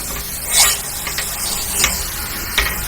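A green peas lachha paratha fries in oil in a pan, giving a continuous crackling sizzle with a few louder hissing bursts as it is pressed and turned.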